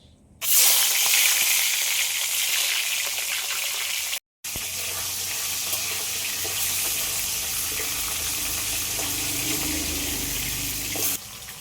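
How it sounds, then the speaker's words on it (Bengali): Hilsa fish heads fry in hot oil, starting with a sudden loud burst of hissing sizzle that holds steady and dense up close, broken by a brief gap, before cutting off near the end. "তেল গরম হয়ে গেছে মাছের মাথাগুলো ভেজে নেবো"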